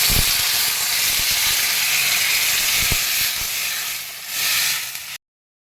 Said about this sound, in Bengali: এবার আমি জলটা দিয়ে দিচ্ছি